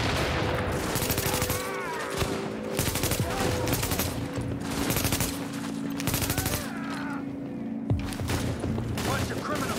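Sustained gunfire rattles through a firefight in the video game The Division, with dense rapid bursts and scattered single shots, loud and continuous, while voices shout over the shooting.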